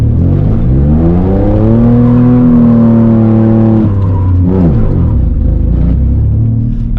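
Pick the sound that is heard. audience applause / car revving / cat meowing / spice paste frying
car revving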